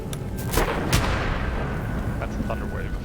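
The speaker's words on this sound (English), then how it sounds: "That's a thunder wave if I ever saw one." A burst of booming blasts from a Thunderwave spell in Baldur's Gate, a couple of sharp loud impacts followed by rumbling, with faint speech in the background.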